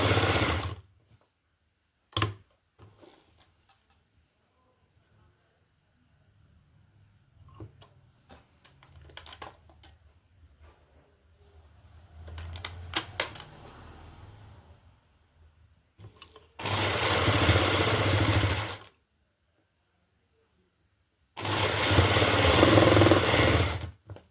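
An electric sewing machine stitches a fabric sleeve cuff in two long, steady, loud runs near the end, following quiet handling clicks and rustles between them.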